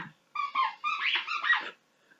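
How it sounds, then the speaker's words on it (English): A dog squeaks a rubber toy in a rapid series of high, wheezy chirps, fairly faint and with no voices, then trails off into quiet. "Excuse the squeaking, that's the dog playing with a toy."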